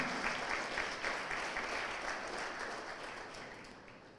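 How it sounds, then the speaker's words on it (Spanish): A congregation claps together in a steady, fairly even rhythm that holds for several seconds before slowly fading. "Denle un aplauso al Señor."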